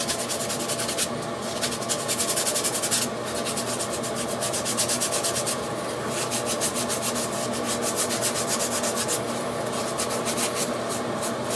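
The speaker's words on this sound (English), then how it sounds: "if you have a steel wool pad or this type of pad, you can actually just sand it down a little bit too" A fine steel wool pad rubs across a Sagat figure part in steady, rhythmic strokes. The close, continuous scratchy rasp has no talking over it.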